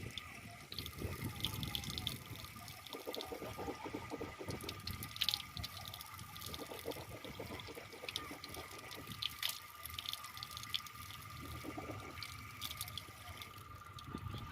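Tap water running and splashing into a sink while someone rinses the mouth during wudu ablution, a faint steady trickle with irregular drips and splashes throughout.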